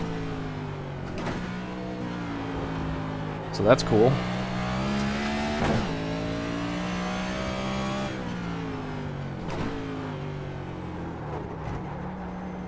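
NASCAR race car engines in the iRacing sim at Le Mans drone steadily, with rising and falling revs through gear changes and a few sharper accelerations, while someone speaks briefly over the engine noise.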